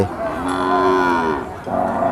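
A cow lets out a long, loud, drawn-out moo at a busy cattle market, close by and rising and falling, followed by a second lowing call right after, with no speech over it.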